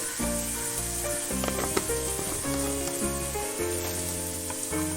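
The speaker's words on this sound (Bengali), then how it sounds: "দিয়ে মশলাটা ভেজে নেব" Spices with red chilli powder frying in a pan for a drumstick-flower (sajne phool) curry, a loud steady close sizzle that runs the whole time, with faint stirring and background music.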